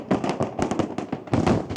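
New Year's Eve fireworks burst in Madeira in a rapid string of crackling booms and pops, loud and continuous over about two seconds with no voices.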